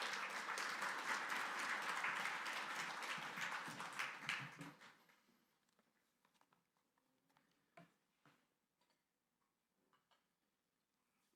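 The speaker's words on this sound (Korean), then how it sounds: "하나님께 감사 박수 올려드리면서 목사님 모시겠습니다" A church congregation at a Sunday worship service claps in thanks as the pastor is welcomed. Loud, dense applause runs for about four seconds, then quickly thins to scattered claps and faint taps before fading out.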